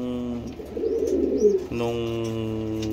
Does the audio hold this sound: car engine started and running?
no